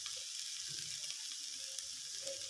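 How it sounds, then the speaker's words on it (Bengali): Vegetable peels fry in a pan with salt and turmeric, making a soft, continuous sizzle that stays quiet and even throughout. "হলুদের কাঁচা গন্ধ চলে যাওয়া পর্যন্ত ভেজে নিতে হবে।"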